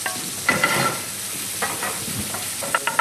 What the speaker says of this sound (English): you want to get the bacon frying first